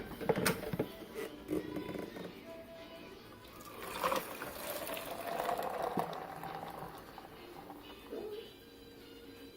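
Hot water poured into a quart jar for a sugar-free holiday sipper drink, a steady trickling, gurgling fill that swells and fades over several seconds, close and moderately loud, with clinks and handling noise and no talk.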